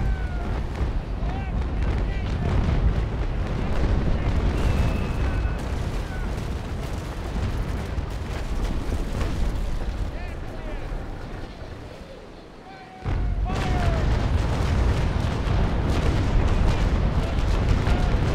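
Naval Action game battle with booming cannon fire and ship noise running almost throughout, a brief dip near the end, while a player talks over it.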